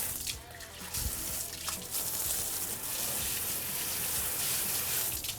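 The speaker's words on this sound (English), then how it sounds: "Hitting that up with some water." Water spraying onto a Lone Star Grillz barbecue grill during deep cleaning, a steady close hissing rush with splashing and brief louder gushes, continuing alone without talk.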